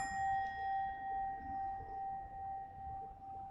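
A meditation bell struck once at a dharma talk in Traverse City rings with a steady, pure tone near 900 Hz plus higher partials, sustaining and slowly fading across the whole stretch with no speech over it.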